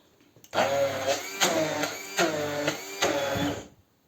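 Electric blender pureeing cooked beans with a little oil for a Ukrainian lenten pâté, whirring loudly in several pulsing bursts before cutting off.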